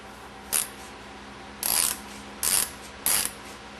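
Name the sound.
hex socket ratchet tightening plug on Meyer E 47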